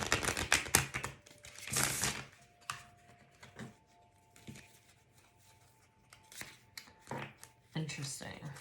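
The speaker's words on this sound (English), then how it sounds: "As I'm shuffling these cards," Playing cards are shuffled in quick bursts of riffling, flapping clicks, with pauses between and faint tones in the background.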